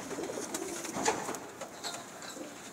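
A pigeon coos softly at a distance, a few low murmuring calls over faint background noise, with no talk.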